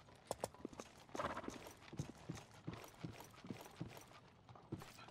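A horse's hooves clip-clop over a crossing in a video game, with a steady, evenly spaced walking rhythm that is quiet and slightly distant.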